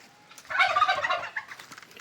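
A guinea fowl near a free-range poultry yard gives a short, loud, rattling burst of cackling calls. A few softer notes trail off after it, with no speech.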